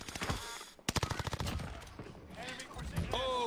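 Rapid gunfire bursts in the video game Call of Duty Warzone, a dense volley of close, loud shots followed by continuing combat noise, with a player's voice talking over the action.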